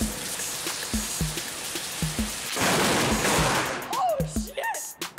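Rain with heavy drips gives way to a sudden loud crackling burst like a close lightning strike, followed by startled voices and clatter.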